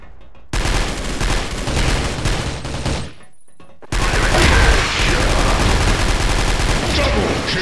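Rapid bursts of video game gunfire crackle loud and close in an escape-mode match on a cargo ship map. A brief lull follows, then heavier, denser shooting.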